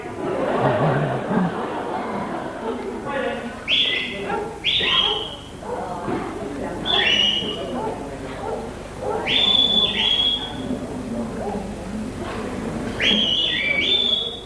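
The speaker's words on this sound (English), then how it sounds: "there'll be another whistle on its way." Short, sharp shepherd's whistle commands to a sheepdog repeat every couple of seconds over a steady murmur of background chatter and movement outdoors on a farm.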